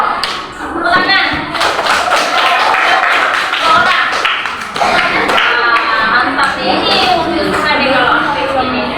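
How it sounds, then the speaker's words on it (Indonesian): Schoolchildren clap their hands in a fifth-grade classroom, a dense burst of sharp, irregular claps and thuds lasting several seconds, mixed with voices talking over it. "Kasih ini anak tangga loh. Tepuk tangan."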